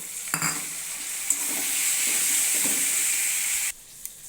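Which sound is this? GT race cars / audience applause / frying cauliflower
frying cauliflower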